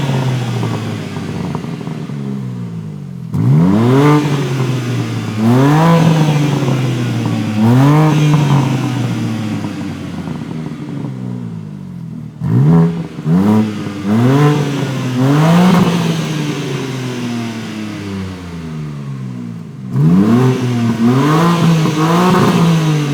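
A BMW M3 Touring engine revving hard, loud close blips that rise and fall in several repeated bursts with brief idle pauses between them, no speech over it.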